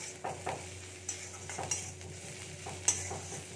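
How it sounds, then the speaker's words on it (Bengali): Garlic and onion fry in a pan with a soft, constant sizzle, while a utensil stirs and scrapes against the pan in irregular taps and strokes, quiet and close. "রসুনটাকেও আমি একটু ভেজে নিচ্ছি"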